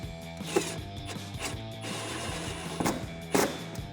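A hand ratchet with a 10mm socket tightens a bolt at the top of a Jeep Wrangler JL wheel well liner, giving a steady, close run of rapid metallic clicks with a few louder knocks.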